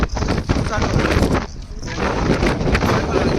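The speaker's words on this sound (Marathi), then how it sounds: "मस्त वारा एकदम" Strong wind on a small hill by the sea at Tilmati Beach, Karnataka, buffets the microphone with a constant roaring rush, briefly easing for a moment before gusting again.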